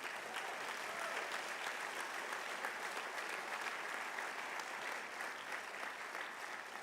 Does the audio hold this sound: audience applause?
yes